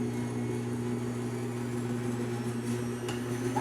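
An electric mixer hums along at a steady, moderate level, beating apple cake batter for a Jewish apple cake, a continuous motor drone with no voices.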